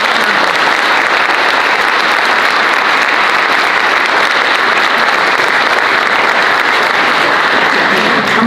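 An audience at the 2018 Bailey Oratorical event gives a round of applause, a loud, dense, continuous clapping that holds steady for the full stretch with no speech over it.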